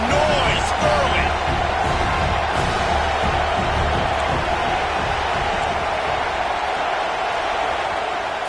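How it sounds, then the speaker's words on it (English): Football stadium crowd at an Ohio State vs Notre Dame game, a steady loud roar of cheering and noise that holds for the whole stretch, with broadcast talk faintly mixed in. "This crowd bringing the energy and noise early."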